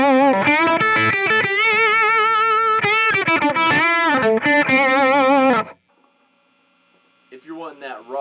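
A distorted electric guitar, boosted by a compressor, plays sustained, effected notes and chords through a Marshall MKii Studio amplifier, then stops, leaving near-silence before a few faint notes return.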